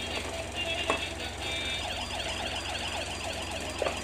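A toy police car siren plays a wailing, warbling electronic tone that rises and falls steadily, mid-loud over room hiss at a child's present-opening, with a couple of brief knocks and no speech.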